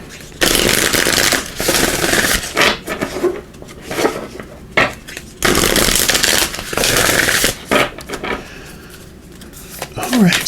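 Star Seed Oracle cards are shuffled and pulled, giving a series of loud, crisp riffling bursts broken by short pauses, with a voice present at times.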